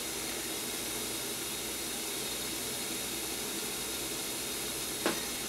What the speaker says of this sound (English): That's a cool little stove.